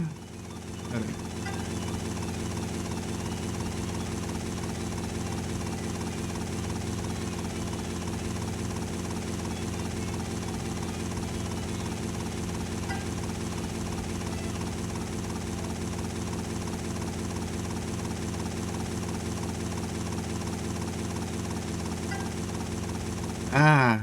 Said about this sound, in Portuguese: Esse helicóptero aqui é da hora. Ele pousa na água, mano.